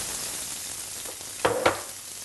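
Onions for a mushroom risotto sweat in a pan with a soft, steady sizzle, and two brief louder scrapes come from stirring near the end, close and without talk.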